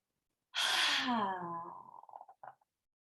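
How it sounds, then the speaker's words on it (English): A single deep breath rises out of silence, full and airy, then trails off into a few softer breathy puffs, close and alone, during a guided relaxation session. "And now breathe it in."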